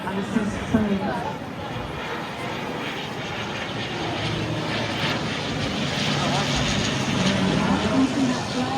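A maritime search and rescue aircraft flies at the Malta International Airshow, its engine drone steady and fairly loud and rising slightly over time, with a commentator talking over it.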